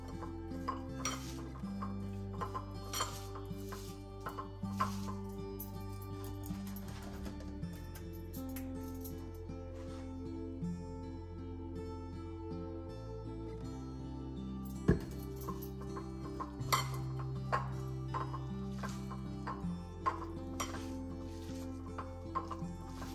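Onion, chili powder, coriander leaves and mustard oil are being mashed and mixed for bharta, with soft repeated squishing, stirring and clinking of utensil against a pot, quiet and steady throughout.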